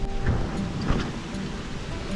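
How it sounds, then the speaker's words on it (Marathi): Heavy rain falls steadily at the Ekvira Devi temple at Karla, a continuous broadband hiss with a low rumbling undertone and no voices. "पाऊस कसला धरलाय आणि पाऊस येत आहे"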